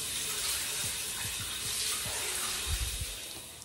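Shower water runs steadily in a home bathroom, a continuous hiss with soft low splashes as the spray hits a body and the floor, close and moderately loud with no talking.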